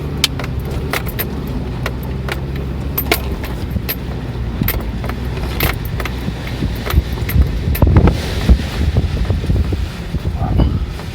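Strong wind buffets the microphone in loud, steady gusts high on the Morrison jeep trail, with a low rumble throughout and sharp crackling bursts scattered across the recording.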